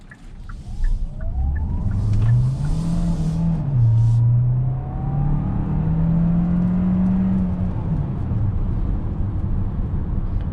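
A 2021 Hyundai Santa Fe Hybrid pulls away from a dead stop, its engine hum rising and shifting through gears in a close, steady drone with a faint electric whine and no talking.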